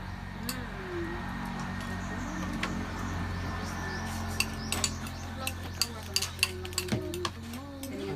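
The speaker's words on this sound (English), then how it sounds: "Let's mix it well" A young coconut (buko) dish being mixed in a kitchen, with soft stirring and scraping, then a run of sharp clinks of utensil against bowl toward the end, under faint background noise.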